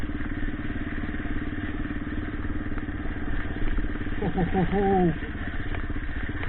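A Yamaha XT600 E motorcycle rides through slippery dirt, its engine running steadily throughout at moderate loudness, with a brief voice-like tonal sound near the end.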